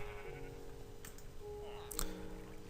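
Sheep bleating at a sheep farm inside a Minecraft-style survival game, a couple of short bleats with faint clicking, fairly quiet and without talk.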